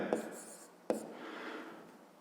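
Faint scratching of writing out a math solution for a fifth-grade geometry exercise, marked by two sharp taps near the start and just before the one-second mark, then soft steady strokes.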